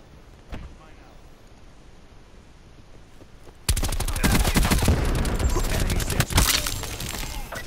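Heavy automatic gunfire from a Call of Duty Black Ops 4 match bursts in after a quiet stretch and keeps pounding loudly and continuously with dense, rapid shots.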